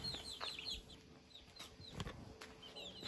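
Chickens cluck softly and intermittently nearby at a rural home deep in the forest, a few short calls scattered over quiet farmyard background.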